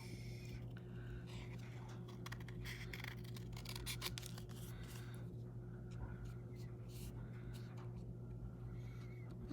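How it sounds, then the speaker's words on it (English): Scissors snipping through paper during fussy cutting, with repeated soft crisp cuts and rustles close by over a steady low background hum. "When you're fussy cutting, if you move the paper, not the scissors,"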